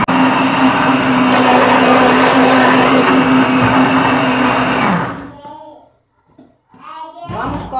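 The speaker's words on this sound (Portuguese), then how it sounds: "A gente vai bater aqui esses ingredientes" Electric blender beating butter, oil, sugar and egg, a loud, steady motor whir that runs for about five seconds and then winds down, followed by brief speech.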